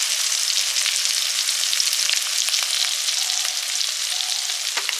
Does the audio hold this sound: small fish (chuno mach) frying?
yes